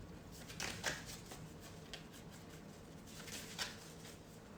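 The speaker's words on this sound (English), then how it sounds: "and I will start shuffling." A deck of sensory cards is shuffled close by, with soft, quiet riffling and brushing sounds in uneven bursts and no talking.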